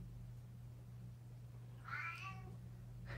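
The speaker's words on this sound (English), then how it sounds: "Can you guys hear my cat meowing?" A single drawn-out cat meow, clear but fairly quiet, rises and falls over a constant low electrical hum in an otherwise still indoor room, with another brief faint call starting at the very end.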